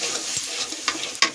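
Spice masala of turmeric, chilli, chicken and garam masala powders fries in hot oil with a soft continuous sizzle, while a spoon scrapes and stirs the pan in a few brief strokes.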